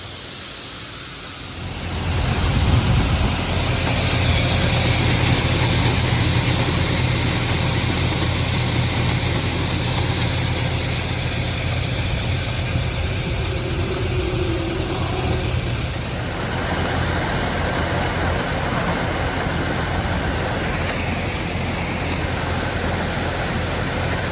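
A farm unload auger dumps grain while the engine runs, a loud, steady low rumble and rushing hiss that starts after a short quieter lead-in and holds unbroken, with a slight shift in tone partway through.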